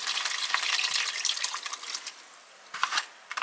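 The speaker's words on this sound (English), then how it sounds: "A touch of water in there." Water splashes and trickles into an MRE ration heater bag, a close, light pouring with small drips and gurgles, no talking over it.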